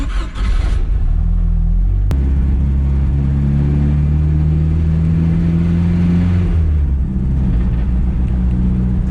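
An S10 truck with a swapped turbocharged boat engine and six-speed transmission, driving with a loud, close, steady rumbling engine drone that rises and settles as it is revved, punctuated by a sharp click early on.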